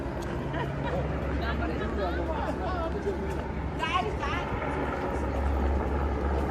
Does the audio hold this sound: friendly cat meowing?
no